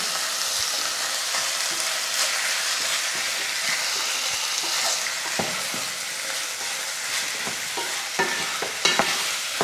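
Chicken pieces fry on a high flame in a pan, with a steady, close, loud sizzle broken by scraping stirs and small pops, and no talking.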